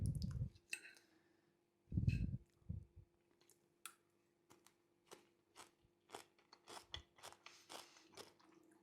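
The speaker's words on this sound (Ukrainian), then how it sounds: "Ви, напевно, чуєте, як цей салат хрумтить." Close crunching and chewing of a crunchy salad, with two louder bites early on followed by a series of small crisp crunches spread evenly.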